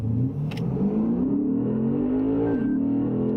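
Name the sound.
Lexus RC F car accelerating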